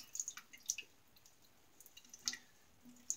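Water drips and splashes faintly while a shaving brush is wetted, a few sparse light taps and droplets, close but quiet.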